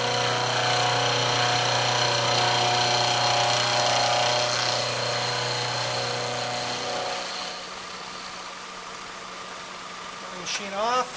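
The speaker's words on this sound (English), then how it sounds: "Turn the milling machine on. Run the cutter through the part." A milling machine runs with a steady mechanical whine and hum as its cutter feeds through a part on a direct indexing plate, the sound easing off toward the end.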